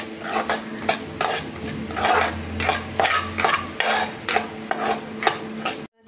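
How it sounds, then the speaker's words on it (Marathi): Semolina is dry-roasted in a pan with a spoon stirring it in steady, rhythmic scraping strokes, close and clear over a faint sizzle. The sound cuts out briefly just before the end, and no one speaks. "मस्त असं भाजून घ्यायचा रवा"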